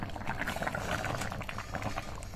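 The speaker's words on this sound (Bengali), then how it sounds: "আর এই যে বড় ফুটের সঙ্গে একদম দেখুন এই যে ছোট ছোট ছোট ছোট ফুট উঠছে।" A thin rohu fish curry with eggplant and potato, made without onion or garlic, simmers uncovered in a pot, giving soft continuous bubbling and gentle popping at low volume.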